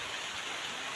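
Heavy monsoon rain falls in a continuous, loud wash of noise that stays even and unbroken for a short moment.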